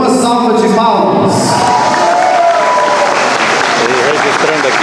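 An audience applauds and cheers at a gathering as guests are introduced, loud dense clapping with a crowd murmur and some voices over it.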